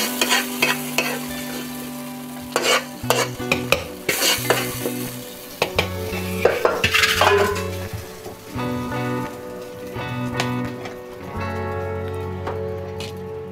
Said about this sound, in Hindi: ये जो प्याज में मैंने लाल किया था ना, ये ऑयल सारा हलीम में डाल देंगे